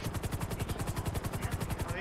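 A rapid, steady thudding of video game helicopter rotor blades with a whining engine, chopping continuously and fairly close.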